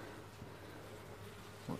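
Honey bees in an open hive during an inspection give off a low, steady, faint hum close by, with a brief soft bump near the end.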